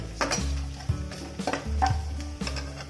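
Coconut pieces being sautéed in hot oil for a chicken curry, with repeated scraping stirs and clinks of a utensil against the pan over a steady low sizzle.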